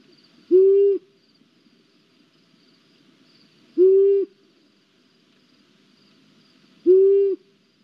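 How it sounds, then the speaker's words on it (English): Single owl hoot calls recorded outdoors, three evenly spaced mellow hoots about three seconds apart, clear and moderately loud over a faint insect-like background hiss. "This is one of the owls that does in fact make a hooting sound."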